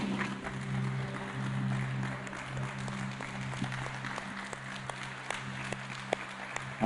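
A church congregation at a Bible-study service claps for Jesus, a fairly faint, sustained patter of many hands in a room with a low hum underneath, a few sharper claps standing out toward the end.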